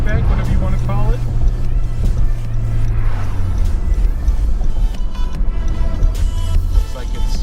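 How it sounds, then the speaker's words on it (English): An old Subaru WRX wagon with a stock exhaust rumbles low and steady just ahead on a bridge, heard from inside a following car over road and wind noise. "Oh, but there's that Subaru rumble I love."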